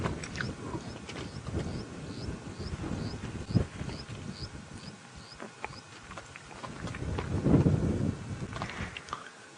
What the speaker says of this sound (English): Oh, the wind's picking up.